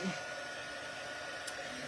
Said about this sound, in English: I'm going to cut my heat embossing gun on